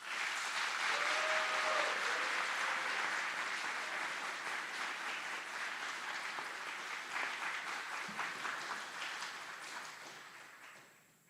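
Sustained applause from an audience at an Army aviation brigade joint graduation ceremony at Fort Eustis, a broad steady wash of clapping that thins and fades out at the end.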